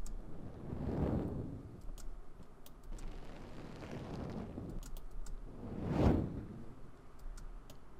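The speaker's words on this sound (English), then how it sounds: "Let's see what these fire whooshes sound like" Two big roaring fire whooshes swell and fade, one early and one stronger near the end, with a low rumble and crackling ticks in between; no voices.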